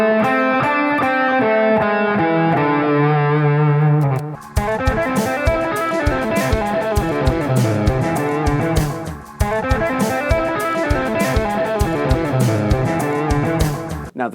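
Distorted electric guitar plays a quick run of single notes from a D 7sus♯4 pentatonic scale, first a few held tones, then a rapid repeating phrase, loud and close with no voices.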